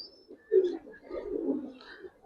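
Giribaz pigeons coo in low, soft murmuring rolls, one fuller coo standing out near the start, with a faint high chirp over the steady cooing.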